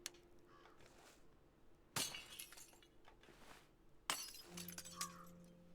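A thrown glass bottle shatters in We Happy Few, two separate sharp crashes a couple of seconds apart, each a bright burst of breaking glass and tinkling shards fading over quiet game ambience.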